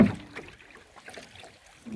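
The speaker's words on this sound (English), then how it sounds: "Of course I'm paddling back here." Canoe paddling on a lake trip among cliffs and islands, faint water strokes and splashes spread through a quiet stretch, with light wind in the background.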